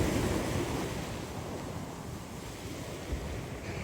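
Waves wash over a stone-covered beach in a continuous, broad roar of surf, with wind buffeting the microphone throughout and no voices.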